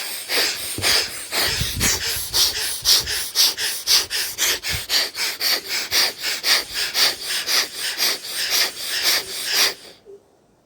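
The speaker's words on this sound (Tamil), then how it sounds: "இடது நாசியை மூடிட்டு வலது நாசியில் மட்டும் மூச்சை வேக வேகமாக இழுத்து வரணும்" Rapid, forceful breaths pump through the right nostril during a yoga breathing exercise, a steady rhythmic series of about twenty close, rasping huffs that stop abruptly at the end.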